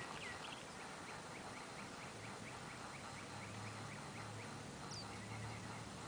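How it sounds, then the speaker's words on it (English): Mockingbirds in a nature preserve chatter in rapid repeated chirps, faint and somewhat distant over a steady outdoor background hum. "Mockingbird, making all that chatter."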